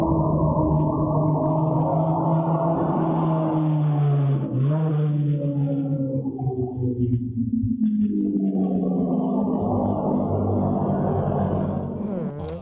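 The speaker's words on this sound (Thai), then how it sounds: "โอ้โห เครื่องเขาแรง นี่เสียงยังไงอยู่ในสนามแข่งเลยทีเดียว" Ferrari sports car engine roars past on CCTV, a loud revving drone with rising and falling pitch sweeps, close and continuous for several seconds, with faint talk mixed in.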